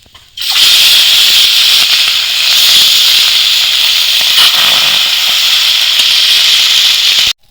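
Loud, steady sizzling of rohu fish pieces frying in hot oil in a wok, a broad hiss that starts abruptly and holds for several seconds before cutting off.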